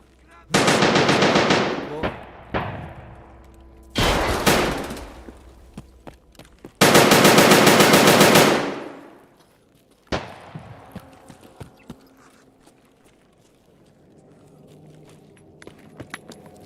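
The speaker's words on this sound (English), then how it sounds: "That fully automatic gun." Fully automatic gunfire in the video game Escape From Tarkov comes in three loud sustained bursts separated by sparse single shots and clatter, ending with quieter background rumble.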